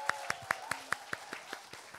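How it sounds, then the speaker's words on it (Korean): An audience at a talk concert claps for the teachers, giving a steady, even run of claps that sounds fairly soft and slightly distant. "그러면 우리 여기 선생님들 박수 한번 주세요"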